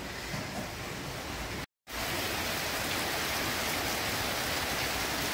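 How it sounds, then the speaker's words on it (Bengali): Heavy rain pours down outside in a dense, constant hiss, loud and unbroken except for a brief cut of silence. "প্রচুর বৃষ্টি হচ্ছে বাইরে"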